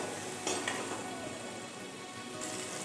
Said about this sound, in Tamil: வெங்காயம் நல்லா வதக்கி விட்டுக்கலாம்.